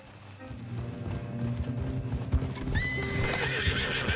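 Horses in Red Dead Redemption 2 clopping along at a steady gait, hooves thudding close and continuous, with a high neigh breaking out near the end.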